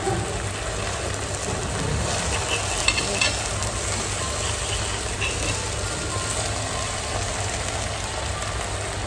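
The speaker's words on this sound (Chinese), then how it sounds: "准备开始煎下一份吧，因为我这个很快就吃完了，直接开始煎吧" Steak sizzles steadily on a hot pan at an all-you-can-eat steakhouse, with continuous frying crackle and clatter in a busy room, a few louder clinks near the middle, and no clear talk.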